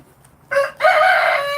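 A rooster crows close and loud, a short two-part call with a brief break before a sustained, strained final note.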